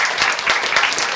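A short burst of dense applause from a crowd, loud and close, with no talking.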